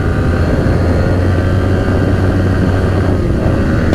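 Yamaha R15 v3 modified sport motorcycle engine pulling hard in third gear on a road, a loud continuous droning roar with steady wind rush, close and unbroken.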